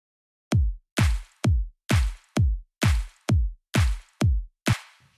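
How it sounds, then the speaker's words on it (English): Electronic kick and snare drums from an FL Studio drop section for a track alternate in a steady, punchy pattern of ten hits. Every hit is loud and close, with no other instruments. "let me play the kick and the snare for the drop section"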